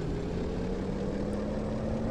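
Steady, loud low engine drone of a Scania V8 truck in a truck driving simulator game, a continuous hum with a constant tonal line and no clear rise, heard alone without talk.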